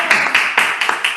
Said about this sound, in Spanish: Con aplausos en vivo.